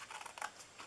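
Scissors snip through paper for a small DIY treat box, a quick run of soft, close cutting strokes.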